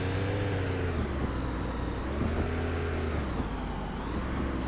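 A car engine in the video game Car Dealer Simulator hums steadily with low rumbling tones and slight revving, continuous and fairly loud.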